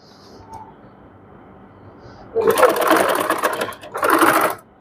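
Fabric piping being stitched on a sewing machine: two bursts of fast motor whirring and needle chatter, the first longer, after a quiet lead-in with a faint voice.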